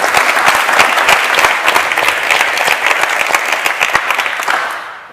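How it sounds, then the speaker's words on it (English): Audience applause at a panel discussion on Europe's role in AI, greeting a panelist: dense, steady clapping from a crowd lasting about five seconds, then tapering off at the end. "Please, a warm applause for Alexandra van Huffelen."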